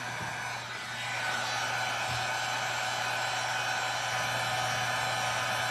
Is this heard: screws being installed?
no